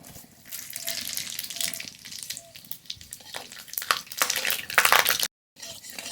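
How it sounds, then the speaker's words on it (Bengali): Dried red chilies, radhuni, bay leaves and mustard seeds hit hot oil for a dal tempering, producing a bright, crackling sizzle that swells and spatters loudly before cutting off abruptly. "ডাল ফরন করে নেব তার জন্য এখানে শুকনো লঙ্কা নিয়েছি রাঁধুনি তেজপাতা সর্ষে"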